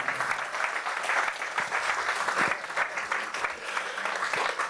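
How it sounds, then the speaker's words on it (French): Audience applauding sponsors at a 40th anniversary celebration, a steady burst of clapping from a crowd throughout, fairly close and full, with no talk over it. "on leur donne une bonne main d'applaudissements à nos commanditaires"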